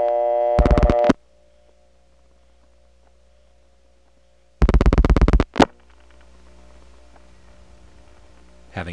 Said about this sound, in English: you do hear the signature reorder